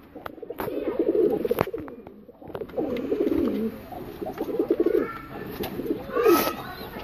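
Golden and mixed pigeons, adults and young birds, coo in low throaty rolling phrases, several close birds overlapping almost continuously with soft flutters and small chirps in between.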